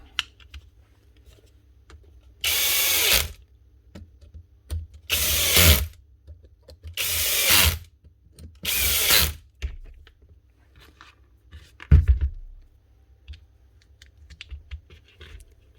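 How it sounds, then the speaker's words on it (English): Screws being driven back into a DeWalt power tool during a repair, heard as four short loud ratcheting bursts of a driver, evenly spaced, with a fainter click afterward and quiet pauses between bursts. "Now we just have to put all these screws back in again."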